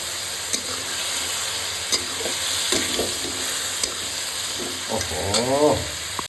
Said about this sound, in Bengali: জল দিয়ে সুন্দর কষাচ্ছি